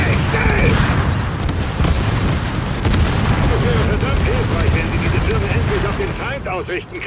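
Dense, loud gunfire and explosions from Tom Clancy's The Division fill the scene continuously, with rapid bursts layered over a heavy booming rumble and talk underneath.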